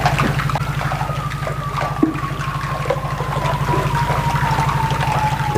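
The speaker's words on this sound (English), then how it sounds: "The water moving rocks around." Underwater recording in polar waters of water shifting rocks along the seabed, a steady churning wash with low rumbling knocks, while a distant generator hum and a thin tonal whine run continuously beneath.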